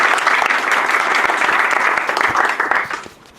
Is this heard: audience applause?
yes